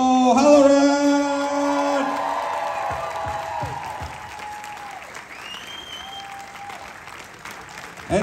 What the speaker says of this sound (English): Make some noise for Mr. Brian O'Halloran!